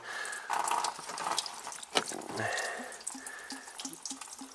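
Coolant draining from a disconnected heater outlet hose on a 2010 Subaru Tribeca H6, a steady trickling, splashing flow heard up close with a few louder drips, no talk.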